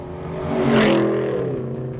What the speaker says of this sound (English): This F-150 sports Borla exhaust's most aggressive sounding muffler the law will allow.